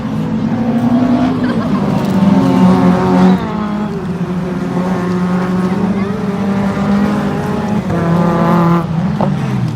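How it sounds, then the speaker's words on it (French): A Peugeot 306 RS race car running on a circuit during a racing round, its engine droning steadily and loudly throughout with shifting pitch, heard close with no talk over it. "Kevin Leder Zunino qui est toujours en piste avec la Peugeot 306 RS"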